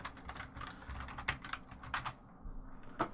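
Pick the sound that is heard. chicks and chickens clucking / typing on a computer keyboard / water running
typing on a computer keyboard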